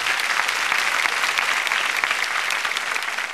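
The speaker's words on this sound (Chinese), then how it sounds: "谢谢仁义，给他掌声鼓励鼓励。" An audience at a TV singing competition bursts into dense, sustained applause, loud and even throughout with no break.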